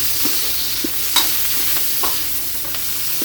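Green chili goes into a frying pan with garlic and onions for adobong bangus, a steady sizzle with a few scattered clinks and stirring scrapes close by, no voices.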